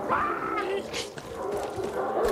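Dogs in the video game Far Cry 6 bark, yip and whimper in quick bursts, the sounds layered over the game's background noise at moderate loudness.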